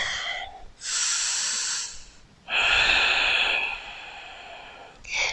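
Two long, deep breaths during a wide-leg yoga forward fold, close and clear: a whooshing inhale, then a longer forceful exhale, with a short gap between them and no talking.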